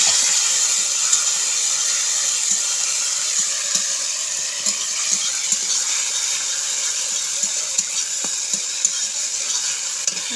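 Chili paste and red chili powder sizzle loudly in an oil-filled pan as they fry for a fish curry with stem greens and potatoes, a steady bright hiss with occasional soft pops and stirring clicks.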